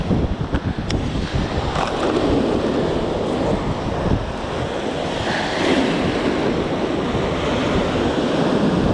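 Sea waves surge and wash continuously while strong wind buffets the microphone with a loud, steady roar, recorded close and outdoors on the open water.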